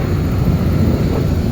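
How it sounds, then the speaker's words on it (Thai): A propeller or jet airplane passes overhead as a steady, loud low rumble with some wind buffeting, heard outdoors near an idling 1997 Toyota Corolla Exsior 1.6 manual car, with no talking. "เครื่องบินบินผ่านพอดีนะครับ"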